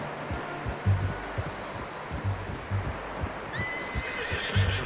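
A horse in the video game Red Dead Redemption 2 lets out a high, wavering whinny near the end, over steady clip-clopping hooves and a constant ambient background.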